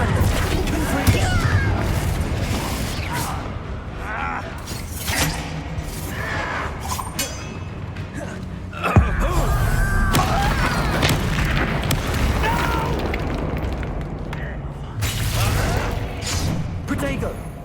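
Spell blasts in the video game Hogwarts Legacy, with repeated booms, crackling bursts and shattering impacts in a dense, loud, continuous combat sequence, mixed with shouted incantations.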